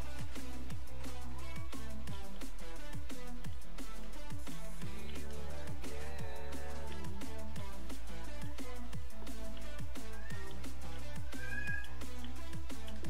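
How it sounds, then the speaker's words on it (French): A cat meows repeatedly inside the Fortnite video game, heard over busy in-game music with a steady rhythmic beat and no talking. "Bon, il m'énerve ce chat."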